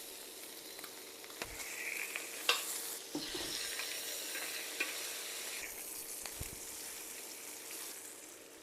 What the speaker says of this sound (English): So now we're going to sear off these pork loins